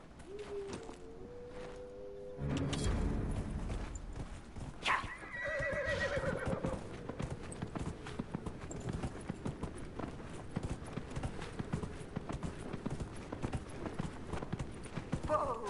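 In the video game Dragon Age: Inquisition, a horse neighs loudly near the middle while hooves clop steadily on and on, with a rumbling background behind them.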